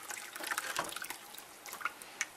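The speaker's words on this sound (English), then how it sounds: "I'm going to pour in my jar and a half of spaghetti sauce." Spaghetti sauce pours from a jar into a pan of lean ground beef, a soft wet trickle with brief splattering plops, close and fairly quiet, with no talking.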